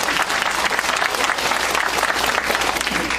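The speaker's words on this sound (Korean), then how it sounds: "우리 초등학생이 큰 박수 한번 주시죠." Audience at a lecture applauding elementary school students, a dense, steady burst of clapping throughout, fairly loud and close.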